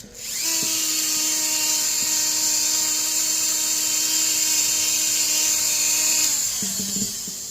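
A Dremel rotary tool fitted with a taper burr carves wood, a loud steady high-pitched whine holding constant for about six seconds before spinning down, with faint handling noises at the end.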